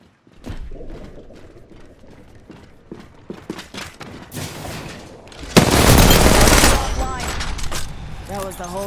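Gunfire in the battle royale game Apex Legends comes as a dense, loud sustained burst of rapid shots lasting over a second, preceded and followed by quieter in-game clatter and character voice lines.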